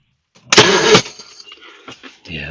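Daimler SP250 starter cranking hard for about half a second when 12 volts is fed straight to the solenoid contact, a loud close burst that stops abruptly, followed by quieter clicks and handling noises and a brief voice at the end.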